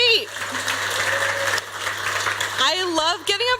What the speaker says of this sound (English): I love getting applause for no reason, so just keep it going